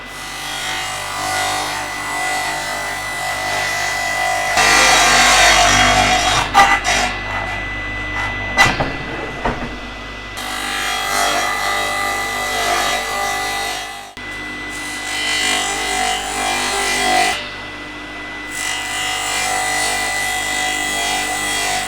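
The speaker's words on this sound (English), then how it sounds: "now it's ready for the circular saw" A circular saw cuts through an old snowmobile seat, a loud, continuous whining drone that rises and dips as the blade bites into the foam and cover, with no talking.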